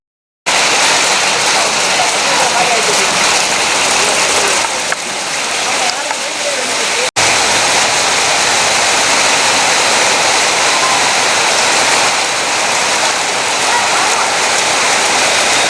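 Heavy rain pours steadily, a dense, loud hiss of water that fills the whole stretch with only a brief dip partway through.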